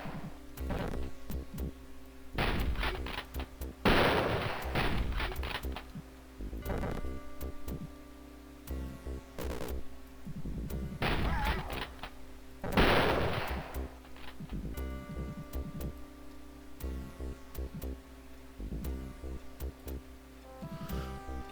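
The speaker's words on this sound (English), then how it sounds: "the shots they fire are loud and scary, just like they should be" Repeated gunfire from enemy soldiers in the Wolfenstein video game, loud cracking shots in irregular bursts over a steady electronic game music bed, with no talking.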